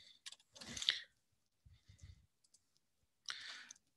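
Sharp computer mouse clicks during a walkthrough of a messaging interface, a few quick dry taps near and isolated, separated by short silences with faint shuffling between.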